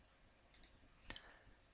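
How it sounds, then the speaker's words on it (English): A computer mouse clicks during an interactive whiteboard software demonstration, two or three quick, crisp clicks close to the microphone in near silence. "I click on the Gallery tab"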